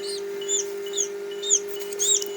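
A newly hatched Silkie chick peeps in short, high, evenly spaced calls, about five in quick succession, faint but clear over a steady low electrical hum.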